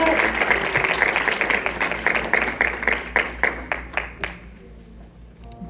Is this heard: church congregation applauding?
yes